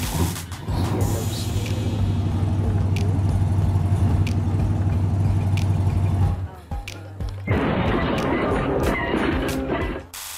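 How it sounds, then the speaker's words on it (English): A model diesel dragster drives with a steady low buzzing engine drone for about six seconds. After a brief gap, a rougher, noisier burst of motor sound follows. "I made this awesome diesel dragster"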